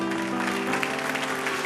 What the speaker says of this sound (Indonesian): Yang percaya beri tepuk tangan untuk Tuhan.